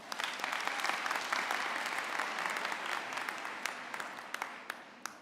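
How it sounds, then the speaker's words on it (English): Steady, dense applause from a graduation ceremony audience at the 2022 UFS Faculty of Education session, a full roomful of hands clapping continuously for several seconds with no talk over it. "let us give them a round of applause."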